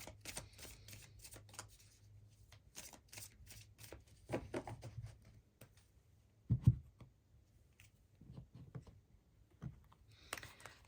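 Tarot cards are shuffled close up in quick bursts of crisp riffling and soft taps, with short quiet pauses between passes and no talk.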